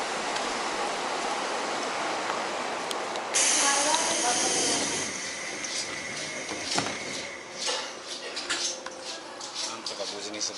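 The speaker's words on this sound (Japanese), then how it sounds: "今度始発電車みたいだなこれ" An early morning first train runs on the line, a steady rumbling hiss of wheels and motion with a brief high squeal, while people talk over it.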